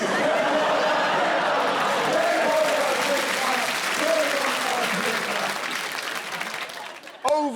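A stadium crowd at a match applauds and cheers loudly and steadily for several seconds after a steward removes an inflatable from the stands, then the noise thins out toward the end.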